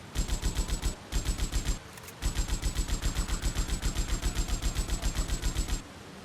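Rapid repeated shotgun blasts in GTA Vice City, a dense near-continuous volley of loud shots with two short gaps, no talk.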